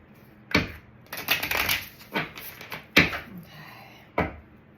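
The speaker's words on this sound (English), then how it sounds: "One more shuffle." A deck of tarot cards is shuffled by hand in a series of separate crisp, papery riffles and bursts, close up in a quiet room.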